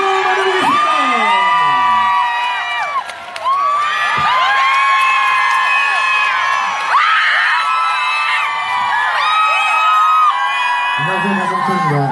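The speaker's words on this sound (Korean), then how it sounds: "큰 박수와 함성으로 맞아보겠습니다" A crowd at an outdoor evening concert on the moonlight walk in Bomun, Gyeongju cheers for a singer's arrival. Loud, sustained high-pitched screams, whoops and shouts rise and fall for twelve seconds, with a brief dip near the start.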